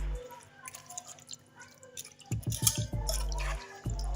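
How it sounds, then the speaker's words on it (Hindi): Two tablespoons of oil poured into a marinade mixture for pizza pinwheels make a short, close glugging trickle and drip after a quiet stretch, with no talking. "ऑयल ऐड करने लगी हूँ 2 टेबलस्पून"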